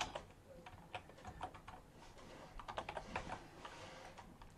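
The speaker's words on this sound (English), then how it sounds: "And then you type something." Computer keyboard typing on a Linux machine, a quiet run of soft, quick keystroke clicks in an irregular rhythm, heard close and alone with no voices.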